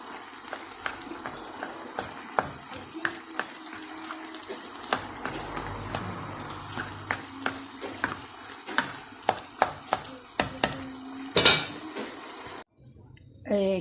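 Chicken keema cooking in a pan, with a soft sizzle under frequent sharp clinks and scrapes of a spoon stirring against the pan, ending in a brief pause.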